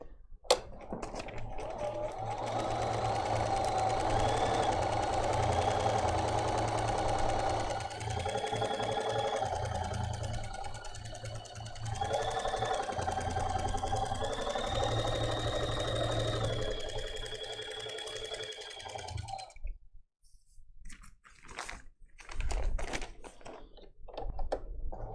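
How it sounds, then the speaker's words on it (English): A Bernina sewing machine stitches quilt pieces in long continuous runs, its motor whirring steadily with brief pauses, then stopping near the end as a few handling taps and clicks follow. "So we're going to start sewing again."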